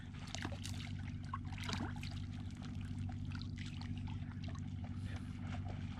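Crab claws from a giant soft-shell mud crab being rinsed under a running tap, a steady close pouring and trickling wash of water that continues without a break, with no talking.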